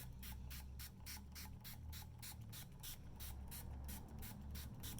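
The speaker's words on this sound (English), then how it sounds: "you're gonna take your water bottle or your spray bottle, water in it, and we're gonna spritz these" Rapid repeated spritzes of water from a spray bottle onto a banner's colors, about a dozen short hissing bursts in a quick, fairly regular rhythm, close to the microphone.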